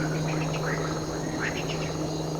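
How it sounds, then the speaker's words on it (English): Frogs and toads calling in a marsh at night, a chorus of short rising chirps and croaks over a steady hum and background drone, moderately close. "Frogs and toads announce that the night forest is ready for its next act."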